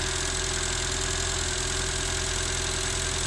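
A car engine running on LPG idles steadily during gas adjustment, giving a dense, continuous hum and rumble with a faint rhythmic knock. The level is even throughout and there is no talking.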